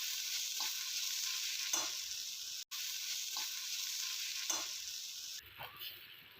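Chilla batter in a pan sizzles and crackles steadily for the whole stretch. A ladle scrapes and spreads it in a few soft, separate passes, and there is one brief drop out near the middle. No one speaks.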